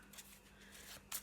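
A Shadowlands Tarot deck being shuffled by hand: a soft, quiet riffling and sliding of cards close by, ending in a brief brighter flutter.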